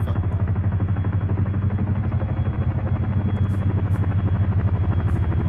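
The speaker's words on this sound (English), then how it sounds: "Get the heli, plenty of space to land. Chinook is us, Chinook is us." A Chinook helicopter in a military video game arrives to land, giving off a loud, steady rotor thump and engine rumble throughout with a fast, regular beating pulse.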